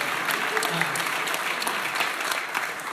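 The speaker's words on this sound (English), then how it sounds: "yeah, you can clap for these guys" A meeting audience at a crime and safety gathering applauds, a steady round of clapping from a roomful of people filling the whole stretch.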